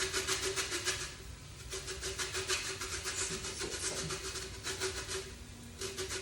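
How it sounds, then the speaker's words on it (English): Rapid rhythmic rasping of a lime being zested on the fine side of a grater, close repeated scraping strokes in bursts with a brief pause, over a faint steady hum from the kitchen. "the grater, the small part of the grater, to just zest this lime."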